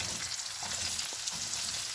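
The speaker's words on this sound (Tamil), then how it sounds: "இந்த டைமில் வந்து நாங்கள் கட் பண்ணி வச்ச வெங்காயம் ரெண்டையும் போட்டுக்கொள்வோம்" Two chopped onions dropped into hot oil already used for frying dried anchovies, giving a steady, dense sizzle with faint stirring, close and continuous with no talk.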